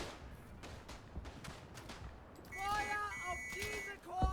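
Rapid bursts of machine gun fire in the World War I shooter Verdun, distant rattling volleys with sharp cracks, then joined by voices and electronic tones.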